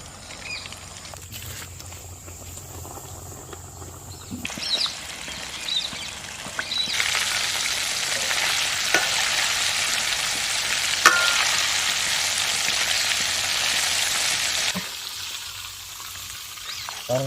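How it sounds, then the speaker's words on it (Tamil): Chicken pieces for KFC-style fried chicken deep fry in hot oil, giving a loud, steady broadband sizzle and bubbling that swells after a few seconds as more pieces go in, then drops away near the end. "இப்படியே நம்ம எல்லா சிக்கனையும் பொரிச்சு எடுத்துக்கலாம்"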